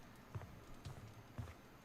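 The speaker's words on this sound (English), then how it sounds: "oh, the door is shaking" A cabin door in the Friday the 13th game shakes in its frame: three muffled, low thumps spaced about half a second apart, quiet and rattling.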